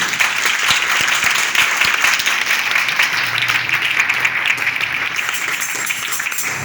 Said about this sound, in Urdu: زوردار تالیاں بجا دیں